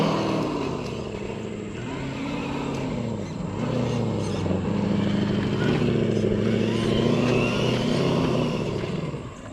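A steady, deep engine drone with shifting pitch, a simulated truck engine sound from a speaker on an RC car, revving gently up and down, close and fairly loud.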